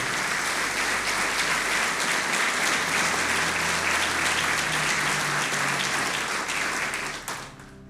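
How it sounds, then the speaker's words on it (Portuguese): A Portuguese-speaking church congregation bursts into loud, dense applause during a live worship service, clapping steadily for several seconds before it quickly dies away. "Aplauda Jesus e glorifique o seu nome."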